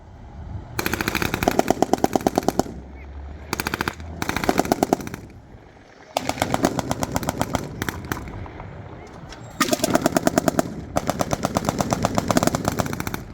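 Loud bursts of rapid automatic small-arms fire during an Army National Guard combat demonstration at a state fair, several long strings of shots separated by short pauses.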